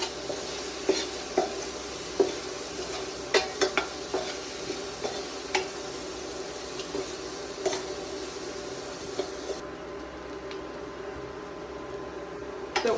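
Chopped ginger, garlic and green chillies are sautéed in a pan for a Kerala fish vindaloo, giving a quiet, steady sizzle broken by sharp spoon scrapes and clinks against the pan.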